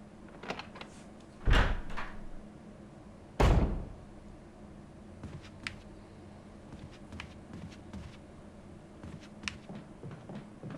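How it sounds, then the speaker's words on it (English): Heavy door opening in Resident Evil HD, heard as two loud wooden thuds a couple of seconds apart over a quiet, murmuring game ambience with faint scattered clicks. "So, now we want to go through this door."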